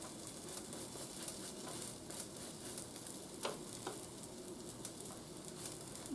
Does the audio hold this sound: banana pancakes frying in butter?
yes